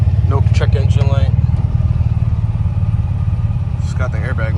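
A supercharged VQ35 engine in a Nissan Maxima runs with a steady, close, low rumble and even pulsing, while someone talks over it.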